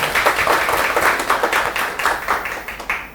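Audience applause at a Korean business-coaching Q&A session on customer events, a steady patter of many hands clapping close and fairly loud for about three seconds, with no voices over it.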